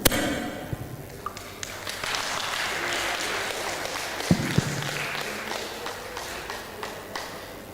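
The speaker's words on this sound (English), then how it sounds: "give a round of applause." An audience at an international seminar on biochar for carbon capture and storage breaks into applause, a dense, moderate clatter of clapping with a few sharper thumps, sustained for several seconds before gradually thinning.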